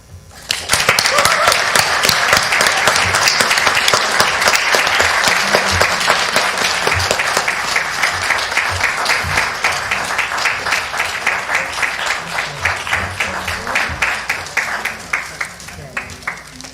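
Loud, sustained applause from a synagogue congregation honoring Jewish educators at a teacher appreciation Shabbat, dense rapid clapping that starts abruptly, holds for many seconds, then gradually thins, with cheering and voices mixed in.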